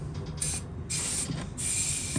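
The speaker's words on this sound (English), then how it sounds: "now spray some WD-40 there" WD-40 sprayed from a can onto the brake pedal of an EZGO golf cart, heard as three close hissing bursts separated by brief pauses.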